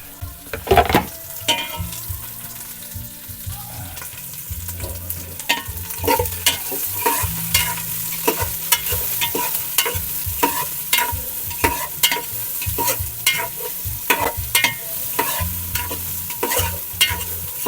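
Onions sizzling in a hot pan as a chicken tinola base is cooked, with a steady loud frying hiss and repeated scraping stirs of a utensil throughout.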